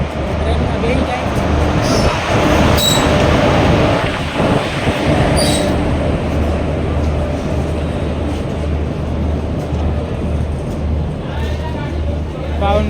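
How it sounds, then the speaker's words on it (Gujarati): The Bhavnagar Express pulls into a railway station with a loud, continuous rumble of wheels and cars, brief metallic squeals, and crowd voices murmuring on the platform. "તમને દેખાડી ટ્રેન આવી ગઈ ટ્રેનમાં બેસી જાય"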